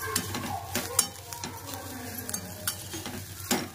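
Rohu fish is stirred in a pan with homemade red chili powder, turmeric, salt and chili powder, giving soft scraping and clinking strokes at an uneven rhythm over a low steady sizzle, close by, with no speech.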